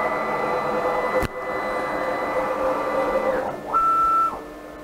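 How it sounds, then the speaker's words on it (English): A 6040 CNC router homing its axes gives a steady whining stepper-motor drone with a sharp click, then a rising tone change and a brief higher pitched run before it settles, close and alone. "before we can start doing a job, you need to home your machine"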